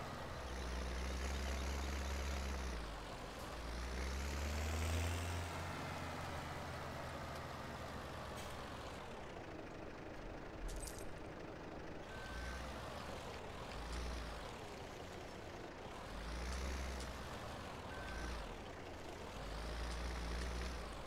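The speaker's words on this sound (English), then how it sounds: "Now that truck got in the way." Truck engine rumbling steadily in Farming Simulator 17, with rising and falling revs, continuous and fairly loud throughout; no reversing beeps stand out clearly.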